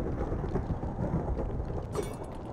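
Thunder from a lightning strike during rain in the Minecraft video game, a low rumbling crackle with a brighter burst near the end, steady and moderately loud throughout with no talking.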